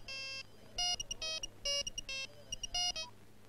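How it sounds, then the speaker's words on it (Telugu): A phone rings in repeated short electronic bursts of a bright, tonal ringtone, loud and close, with brief gaps between the pulses and no talking. "రింగ్ అవుతుంది."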